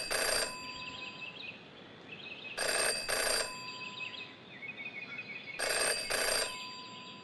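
An old-style telephone bell rings in the game Jenny LeClue, sounding in three paired double-ring bursts separated by pauses, with a soft tonal ambience underneath.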